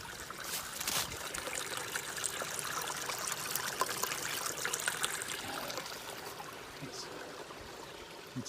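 Water trickling and streaming down off a mountain top along the Ouachita National Recreation Trail, a steady close babbling flow filling the whole stretch with faint outdoor background.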